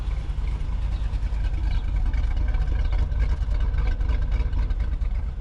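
A 2005 Chevy Avalanche idles with a low, steady exhaust rumble, heard close and constant with no talking.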